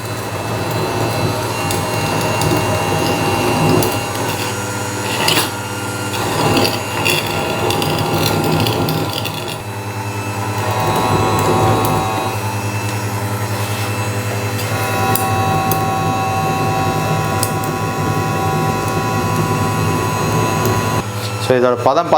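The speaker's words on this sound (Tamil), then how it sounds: "கத்தி பதம் பண்ணுறதை இப்போ நம்ம ஃபிட் பண்ணிக்கிட்டோம். ஸோ இதுவும் ஆன் பண்ணிடுறோம் பாருங்கள்." Electric coconut scraper machine fitted with a knife-sharpening attachment runs with a steady motor hum and a constant grinding whir, near and loud throughout, with scraping accents as a blade meets the stone.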